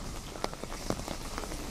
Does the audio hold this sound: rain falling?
yes